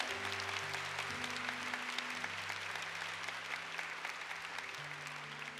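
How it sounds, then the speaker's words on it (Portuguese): A church congregation applauds together, a sustained wash of many hands clapping at moderate distance, steady throughout with music playing beneath. "Aplauda o nome de Jesus."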